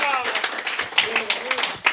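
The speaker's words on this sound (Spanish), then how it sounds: "dé un fuerte aplauso en esta mañana" A church congregation claps loudly, with uneven bursts of hand claps layered over a voice speaking throughout.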